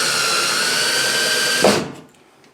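A power drill runs steadily at high speed driving screws into a sliding closet door track, then winds down and stops near the end, close and loud with no talking.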